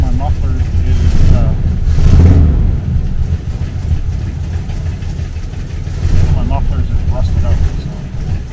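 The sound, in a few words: old car engine running after 8 years, rusted-out muffler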